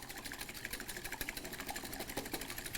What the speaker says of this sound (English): I'm going to go ahead and whisk these eggs up